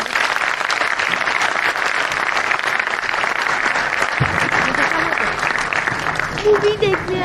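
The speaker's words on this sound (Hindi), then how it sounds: "तालियां कैसी होनी चाहिए।" Dense, steady applause from an audience at a political speech in Navi Mumbai fills the whole stretch, loud and close, with voices rising over the clapping near the end.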